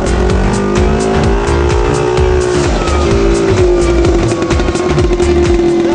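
A very noisy small car roars along continuously, its loud engine buzz rising and falling with a tire-squeal-like whine, close and dominant throughout with no talking.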